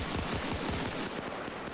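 Gunfire in the video game Arma 3 crackles in a rapid, dense burst of shots, muffled and moderately distant, lasting under two seconds.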